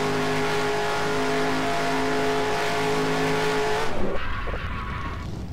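A race car in NASCAR Racing 2003 spins out on an oval like Daytona. A steady, high, whining engine note runs for about four seconds, then breaks into a rough burst of tire skid and scrubbing as the car loses grip.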